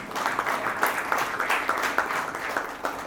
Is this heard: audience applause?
yes